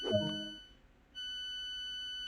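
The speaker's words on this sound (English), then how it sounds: "we've got to confirm that the train is ready by pressing the guard buzzer button twice" A guard buzzer in the Train Sim World train simulator game sounds as a short tone that fades, then a steady electronic beep holds, clean and close with no voices.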